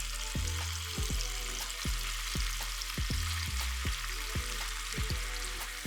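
Pieces of liver fry in hot vegetable oil in a pan over medium heat, a close, steady sizzle punctuated by a regular series of sharp clinks and taps from a utensil against the pan.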